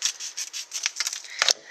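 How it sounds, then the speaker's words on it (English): Scissors snipping open a paper yeast packet for pizza crust dough, a quick run of close, crisp cuts followed by a sharper snip near the end. "You will have to take a scissors and open it up."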